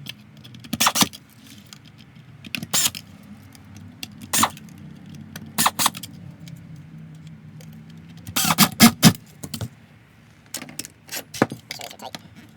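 T15 screws are driven into the plastic housing of a Dyson vacuum by hand, giving short clustered bursts of clicking and ratcheting with quiet gaps between them, close and fairly crisp.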